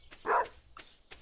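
A dog in a farming video game lets out one clear, close bark followed by two fainter short yips, with no talk.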